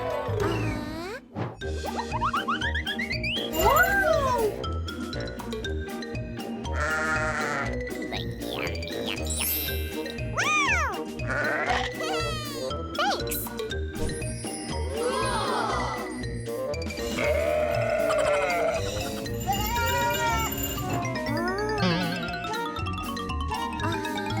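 Goats bleat again and again, some near and some farther off, while small bells jingle and tinkle in the background.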